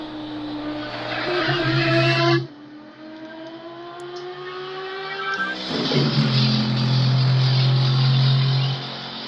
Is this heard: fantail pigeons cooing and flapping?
no